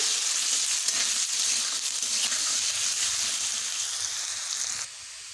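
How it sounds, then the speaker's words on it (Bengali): Potatoes seasoned with salt and turmeric sizzle hard in hot oil, a loud, close, continuous frying hiss with faint stirring scrapes that drops away abruptly at the end. "আলুগুলোকে বেশ ভালোভাবে ভেজে নেব"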